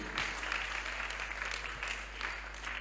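An audience at a church healing service claps for the Lord with steady, dense applause that stays fairly faint and distant, filling the room alone without talk.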